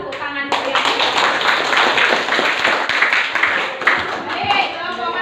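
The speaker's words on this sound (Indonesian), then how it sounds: "kasih aplaus, kasih tepuk tangan dulu ya" A classroom of students applauds with many hands clapping rapidly and loudly in a dense, continuous patter, close by, with children's voices mixed in.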